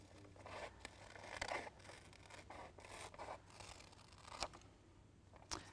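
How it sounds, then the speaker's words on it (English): Quiet, close snips and rustles of scissors cutting paper, several uneven cuts with soft scraping between them and no talking. "I just take my scissors and I cut."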